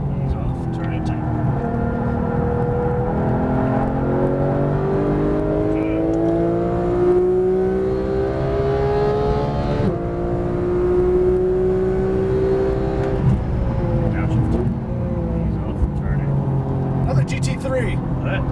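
A 2015 Porsche 911 GT3 race car engine at speed on the Las Vegas Motor Speedway, heard from inside as a loud continuous drone whose pitch climbs through gears and dips under braking, with people talking over it.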